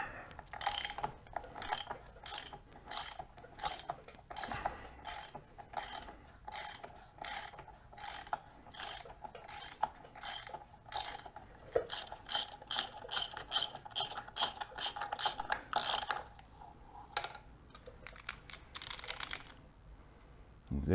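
A hand ratchet removes a nut from a Harley Davidson primary drive, clicking in fast repeated bursts of sharp ratcheting strokes, close and distinct, with brief pauses between runs.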